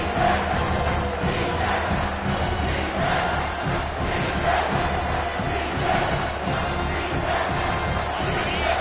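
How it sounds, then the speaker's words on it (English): A football stadium crowd roars steadily throughout, a dense, continuous wall of cheering and yelling with rhythmic surges as fans try to rally the defense in the red zone. "And the crowd coming to life here, trying to help this defense down in the red zone."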